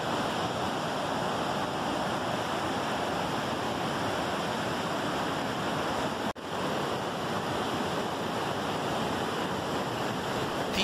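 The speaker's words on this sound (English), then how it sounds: "These Class 6 rapids are the only Class 6 rapids in North America." Class 6 whitewater rapids on the Niagara River at the Whitewater Walk near Niagara Falls roar in a constant broadband rush, loud and unbroken, with wind buffeting the microphone and no voices.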